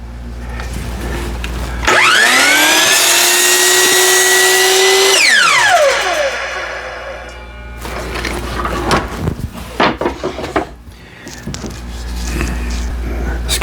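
A new Metabo miter saw spins up in a workshop and cuts through wood, a loud whining motor holding steady for a few seconds before winding down, followed by clattering handling of the workpiece.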